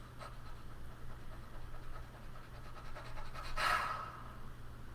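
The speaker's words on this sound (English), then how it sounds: "feed in many, many fluttering pants of anticipation that turn into relief" Voice warmup exercise of rapid fluttering panting breaths, a quick rhythmic series of short breathy puffs at close range, ending in a louder sigh-like exhale near the end, with no words spoken.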